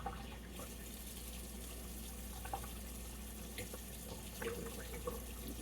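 Tap water runs steadily into an ice tray at a sink, a continuous close splashing stream with small bubbling variations throughout and no talking.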